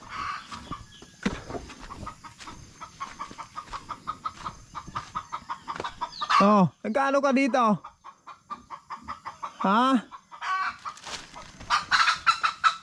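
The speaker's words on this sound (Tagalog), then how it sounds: "Kaya pala talagang kagulo yung alaga kong manok." Pet chickens cluck and squawk in a commotion, with a few loud, close bursts of agitated calling and crowing among scattered clucks, while a person talks intermittently in between.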